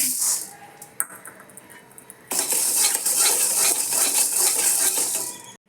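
Dried red chili and urad dal dry-roasting in a kadai: a few metal clinks and scrapes, then a loud, steady rattling hiss as the spatula keeps stirring, close up with no talk.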